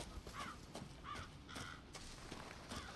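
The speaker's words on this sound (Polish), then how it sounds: "Jeszcze kruki." Ravens in the Resident Evil 7 video game, played in VR, give several hoarse caws at a steady, moderate distance over a constant hiss of ambient game noise.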